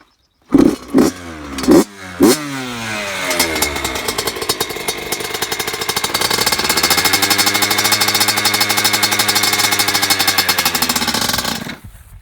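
A Yamaha YZ85 dirt bike gives a few sharp starting bursts, then catches and runs loud and close, its two-stroke engine buzzing and revving steadily before cutting off.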